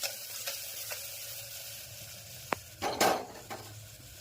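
Hot oil sizzles steadily at a low level while tempering spices for cluster bean curry, with a few sharp clinks of a spoon or pan and a brief louder crackle as spices hit the oil.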